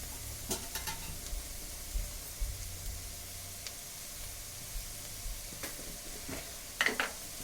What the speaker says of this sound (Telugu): ఇలా బాగా కలిపేసుకునండి.